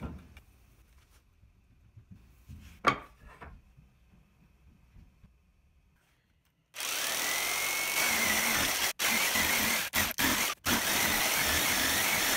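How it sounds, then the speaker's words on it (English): A power tool cuts a half-circle into the top of a center tool holder, starting abruptly after a few quiet seconds and then running loud and steady, with several brief cutoffs near the end. "I need to cut a 1/2 circle on the top side so that it sits down a little further by about 1 inch"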